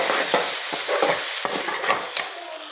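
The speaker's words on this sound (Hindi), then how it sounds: "प्याज भुन चुका है" Chopped onion fries with garlic in a pan for chicken macaroni, giving a steady sizzle broken by several clattering stirring scrapes at close range.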